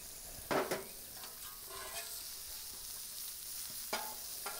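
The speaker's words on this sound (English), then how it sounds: "I'm going to just start with a little onion." Chopped onion sizzling in hot grease on a Blackstone griddle, a steady close frying hiss throughout, with a few brief scrapes and stirring clinks over the top.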